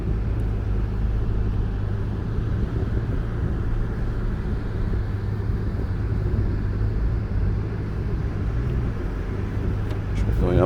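A 2022 Toyota RAV4 Hybrid driving on soft sand at Oceano Beach Dunes gives a steady, loud low rumble of engine and tyres throughout, with a voice talking over it.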